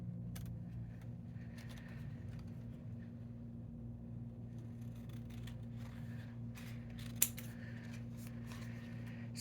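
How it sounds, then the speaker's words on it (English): Scissors give a run of quick, faint snips through paper for a Christmas Eve card scene, heard over a steady low hum with one sharper click near the end. "Just gonna snip."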